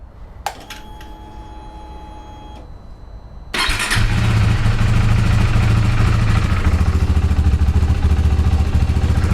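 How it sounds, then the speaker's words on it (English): A KTM RC 390 motorcycle is started after an oil change: a few faint clicks, then the engine catches and settles into a loud, steady, close idle that runs on to the end, with no talk. "We're gonna go ahead and start the bike and run it for a little bit"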